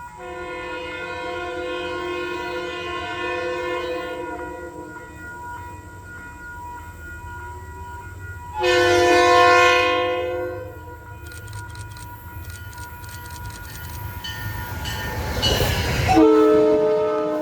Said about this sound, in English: The classic roar of an RS-2M rolls once again through Manitou, with a Shoreliner 3 cab car leading a southbound train for Grand Central with P-32 number 213